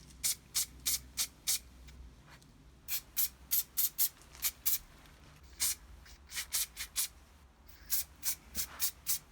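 Short hissing bursts of a spray paint can fitted with a pink dot cap, painting an engine bay, fire in quick irregular clusters, some rapid and close together, with brief quiet gaps between them.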